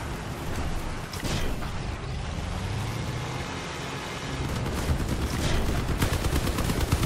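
Vehicle combat in the game Crossout: a dense stretch of overlapping gunshots and bursts of rapid fire over a constant engine-like rumble, loud throughout and growing busier toward the end.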